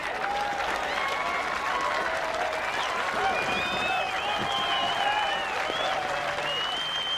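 A large crowd at the 1992 World's Strongest Man competition claps and cheers continuously, with whoops and shouting voices rising over dense, sustained applause.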